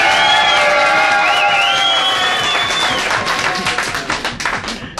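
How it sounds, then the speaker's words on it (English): A club crowd welcomes comedian LaWanda Page with loud clapping, cheers and high whoops, a full burst of applause that thins into scattered claps near the end. "Give her a nice hand."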